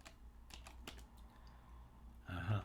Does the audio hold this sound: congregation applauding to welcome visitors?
no